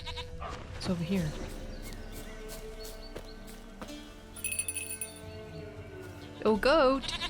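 Goat bleats from The Witcher 3: Wild Hunt come through loud and wavering, one early cry and a stronger, quavering call near the end, set against in-game ambience with light clip-clop steps and a voice speaking over parts of it.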